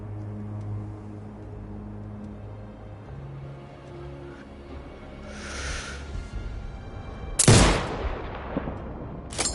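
A single sniper rifle shot in Sniper Ghost Warrior Contracts 2 cracks loudly over a low game ambience hum, one sharp blast followed by a short decaying tail.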